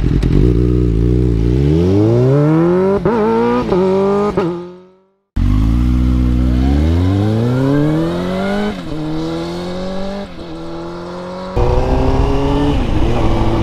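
A 2001 Suzuki GSX-R 600 K1 motorcycle rides past, its inline-four engine revving hard through repeated rising gear pulls with shifts between them, loud and close, with a brief dropout midway.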